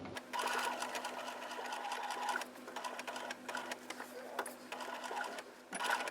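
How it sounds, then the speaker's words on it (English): A sewing machine runs steadily while stitching all the way around the edge of a fabric book cover. The motor hum holds near and loud with a few brief pauses as the work is turned, and there is no talk. "and stitch all the way around"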